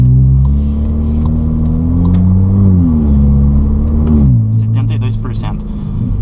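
Engine of a 2023 Volkswagen Polo GTS with a sport exhaust accelerating in city traffic at moderate speed, a loud droning rumble rising in pitch, dropping at a shift, then settling lower as someone speaks over it.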